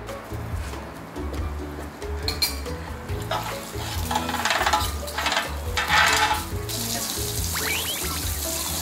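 Steady sizzling of shrimp frying in a pan, with stirring scrapes and clatter building in the middle, close and continuous.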